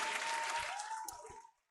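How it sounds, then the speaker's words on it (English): A short burst of audience applause at an improv comedy show that fades out quickly, with a faint tone running underneath. "Give a round of applause for Jordan and Tabitha."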